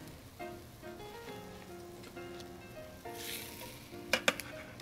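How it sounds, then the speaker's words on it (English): Pork chops laid back into a skillet over soft, clear sautéed onions give off a steady, moderate sizzle with a few sharp crackles and pops near the end. "we're going to add the pork chops back to the skillet"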